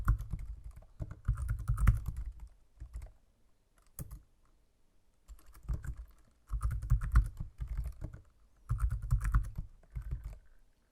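Keys clatter on a computer keyboard as a network name and password are entered while setting up VPN remote access to a stock server; the keystrokes come close and clear in several rapid bursts separated by short pauses.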